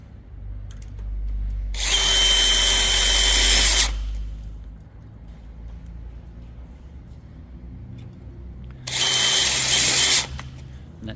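Power drill driving screws into the frame of a Redpath tunnelhouse, two loud bursts of about two seconds each separated by a long gap, close by and with no talk over them.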